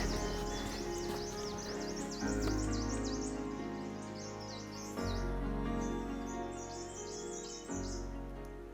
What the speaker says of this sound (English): At the moment I hear the birds chirping.